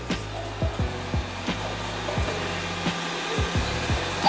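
A robot vacuum cleaner runs with a steady motor drone, interrupted by regular bumps and clunks as it moves around a room.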